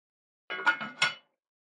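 A lid set onto a pot of simmering gumbo gives a short cluster of metallic clinks and scrapes, close and fairly quiet, lasting under a second within otherwise silent surroundings.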